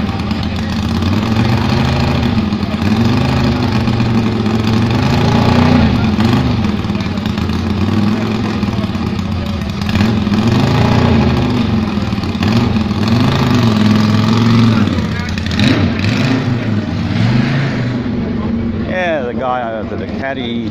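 A motorbike engine built for noise runs steadily and loud for about twenty seconds, its low rumble rising and falling as it is revved, with voices talking over it.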